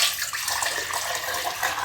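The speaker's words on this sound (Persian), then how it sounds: "آب سری اول رو که از آبکش رد کردم حالا از صافی ریزتر" Water is poured through a fine strainer while samanu, the sweet Persian wheat-sprout pudding, is being made, giving a continuous close splashing trickle with bright hiss, briefly louder at the start and end.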